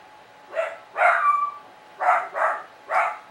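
A dog barks at the meter reader at a house, giving five sharp, close barks in an uneven rhythm, the second one drawn out, with quiet gaps between them.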